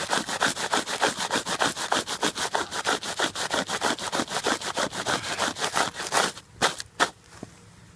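A sharp rock scrapes hard and rhythmically against a Hyperlite Dyneema fabric sample, with dozens of quick, even rasping strokes up close before it slows into a few final scrapes and stops.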